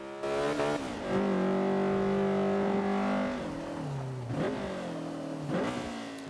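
A Honda Civic CRX Mugen in Forza 5 revs hard down a hill with some wheelspin, the engine note climbing, dropping on shifts and rising again, loud and continuous.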